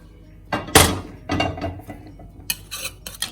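A stovetop pressure cooker holding lentils being opened after its steam was released under running water: metallic clanks, scrapes and ratcheting clicks of the lid being turned and lifted, in several short close bursts with quiet gaps.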